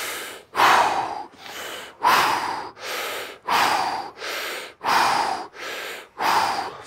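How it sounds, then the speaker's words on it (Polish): Slow, deep breaths in and out through the mouth, about nine rhythmic airy exhalations close to the microphone, with no talking. "Wdech ustami, wydech ustami."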